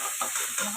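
Spice paste sautéing in oil for potol korma, a soft steady sizzle and hiss with faint stirring scrapes, quiet and close.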